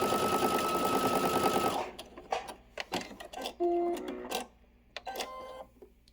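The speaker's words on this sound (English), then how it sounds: "Now that I'm getting towards the end, I'm going to go ahead and back stitch." A sewing machine back stitching a seam on a bomber jacket runs in a steady close whir for about two seconds, then stops and gives way to scattered fabric handling and small clicks.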